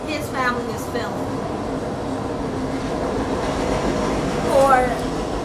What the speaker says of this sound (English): Sorry, y'all, train.